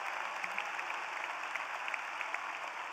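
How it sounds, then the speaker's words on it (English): A large crowd applauds steadily throughout at a college of engineering commencement ceremony. The dense, even clapping sounds somewhat distant and fills the hall without a break or any voices. "one more round of applause for all those people who made this wonderful success happen"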